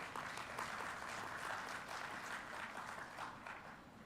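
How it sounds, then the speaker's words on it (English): An audience at a national conference on good governance practices gives a steady round of applause, a continuous wash of many hands clapping, fairly quiet and distant, with no voices over it. "they deserve a big round of applause for all that they say"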